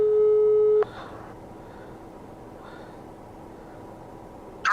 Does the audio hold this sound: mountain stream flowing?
no